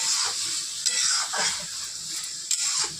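Palak saag (spinach) stirred in a hot pan: a steady, close sizzling hiss with soft scraping strokes and occasional spoon knocks against the pan.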